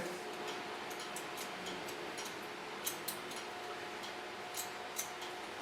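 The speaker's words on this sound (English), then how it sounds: "Hold my scissors straight up so I get into the angle of cutting." Hair being trimmed with scissors during a curly bob cut, giving a few faint, sparse snips and ticks over a steady hiss of salon background noise.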